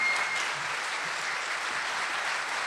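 A crowd applauds steadily for a medical faculty chamber orchestra, a dense even wash of clapping that holds at the same level throughout.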